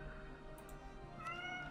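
A domestic cat meows softly indoors, a faint, brief cry near the end over quiet background noise, with no talking.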